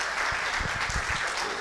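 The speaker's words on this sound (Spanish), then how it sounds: "Un aplauso a la hermana Liliana." An audience in a Spanish-language Bible teaching service applauds a church sister: a steady, dense wash of clapping heard alone, fairly even in loudness throughout.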